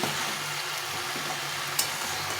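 Vegetables seasoned with salt and turmeric being sautéed for labra, a soft steady sizzle with a faint clink or two, no talk.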